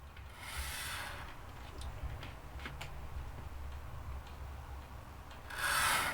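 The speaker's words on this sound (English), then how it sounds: "I'm just going to draw this planks on this side now" Pencil drawing plank lines across card for a model beach hut, a soft continuous scratchy rubbing close up, with brief louder strokes at the start and end.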